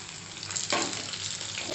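Chopped onions drop into hot oil already seasoned with dried chillies and panch phoron, setting off a loud, close, continuous sizzle that swells after a brief stir.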